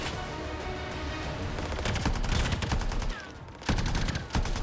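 Rapid automatic gunfire from a machine gun in the sci-fi shooter game Anthem, loud and dense throughout with sharper bursts near the end, no talking over it.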